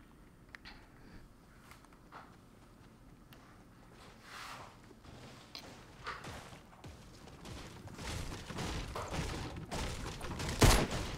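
Gunfire in Fortnite rings out amid rustling movement and mechanical game sounds, building toward a loud, sharp burst near the end, with little or no talk over it.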